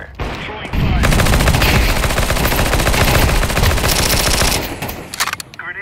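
Sustained rapid automatic gunfire from an online shooter match, loud and dense for several seconds, then breaking into a few scattered shots with no talk over it.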